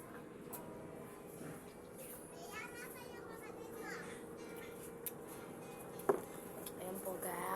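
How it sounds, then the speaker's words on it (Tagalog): Children playing and shouting nearby during a casual meal, a diffuse, busy chatter of young voices mixed with faint clinks of dishes and cutlery, plus one sharp knock near the end, all at moderate distance. "Kasi po ang ingay po ng mga bata rito."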